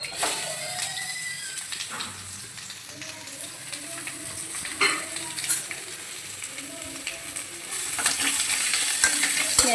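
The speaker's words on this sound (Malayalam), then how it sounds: "ഇനി സവാളയിട്ട് വഴറ്റാം" Onions sautéing in a pan at home, a steady broadband sizzle running throughout with occasional spatula scrapes and clinks, growing slightly louder near the end.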